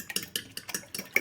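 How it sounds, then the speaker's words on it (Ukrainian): A fork clicks quickly against a bowl whisking eggs in a short burst of light, rhythmic taps, close and fairly quiet. "ось так збиваю виделкою"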